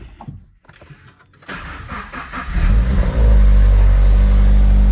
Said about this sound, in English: whenever I start the car up. Why not? Let's do that now.